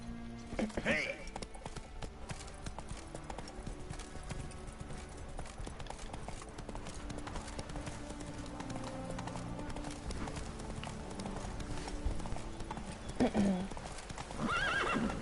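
Horse hooves clip-clop steadily at a gallop in a PS4 video game, a continuous rhythmic beat with a loud whinny near the start and again near the end, under game music and ambience.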